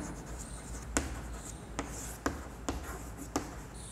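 A pen scratching on paper as a math formula is written by hand, faint and close, with a few sharper taps among soft continuous strokes.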